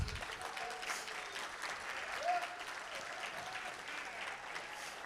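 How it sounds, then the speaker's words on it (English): An audience at a Tuskegee Airmen convention gives a steady round of applause, a fairly faint, even wash of clapping from a crowd, with no speech over it. "Give another round of applause."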